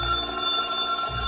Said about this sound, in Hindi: फिर से बज रहा है फोन।